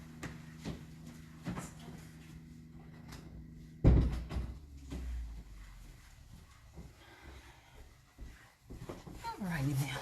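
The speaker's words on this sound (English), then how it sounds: "let me close this door" An office door is shut with one loud thud partway through, followed by a low lingering rumble, amid quiet room noise and some intermittent talking.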